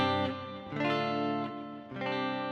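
A Gibson electric guitar plays chords through a Temu Crunch distortion pedal, with light compression and reverb added; the sustained, overdriven tone swells and changes three times and is heard alone at moderate level.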